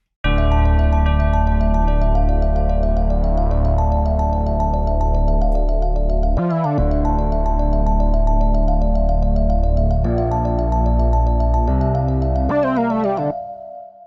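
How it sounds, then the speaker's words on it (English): Growler Moog bass in FL Studio under a bright synth melody, a dense continuous electronic loop with low sub-bass and quick pitched rolls that cut in and sweep near the end, loud and steady. "I got the growler moog bass, just to add a sub bass to the melody, add some low end"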